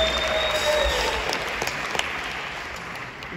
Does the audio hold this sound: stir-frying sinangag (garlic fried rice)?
no